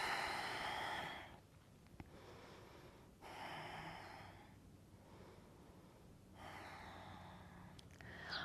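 A slow, deep inhalation through the nose during a yoga flow, soft airy breaths rising and falling in long swells, close and quiet with no talking.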